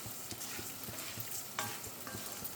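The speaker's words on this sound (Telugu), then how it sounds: "ఇవి చక్కగా మంచిగా మరీ హెవీ మంట పెట్టకుండా మీడియం సైజు పెట్టుకుని వేయించుకోవాలి." Coriander seeds roasting in oil over a medium flame, a soft continuous sizzle with rhythmic stirring scrapes and light taps, fairly quiet and close, no talking.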